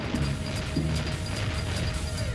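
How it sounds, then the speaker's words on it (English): Cartoon smashing and crashing fills the scene with steady clattering impacts and debris, dense and loud throughout, with a couple of short low thuds near the start. "More smashing."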